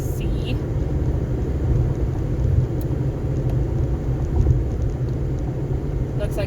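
A 2011 Ford Fiesta cruises in fifth gear, a steady low engine and road rumble heard from inside the cabin, continuous and even, with someone talking over it.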